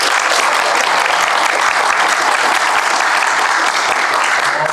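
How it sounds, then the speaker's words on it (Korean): Loud, hearty applause from a crowd at a youth talk concert about voting, a thick, continuous roar of clapping held at full strength throughout with no talking over it. "우렁찬 박수로 시작하니까 기분이 좋아집니다."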